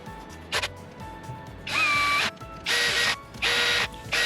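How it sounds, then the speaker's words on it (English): Ratchet clicks in several short bursts, a few quick and then three longer runs, while bolts are tightened down on a Rotax 122 two-stroke engine from an Aprilia RS125 during rebuild assembly; close and fairly loud, with no talking. "Time to torque these bolts back down 30 Newton meters, working in opposites like a star pattern"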